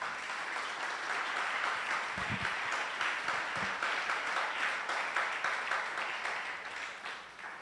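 Steady applause from a church congregation during a Spanish-language sermon, a dense sustained wash of many clapping hands lasting throughout and easing off slightly at the end, with a brief low voice or shout in the middle.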